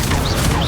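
A Confringo blasting curse explodes in Hogwarts Legacy, a loud, dense burst of crackling blast noise over a short moment amid hectic spell combat.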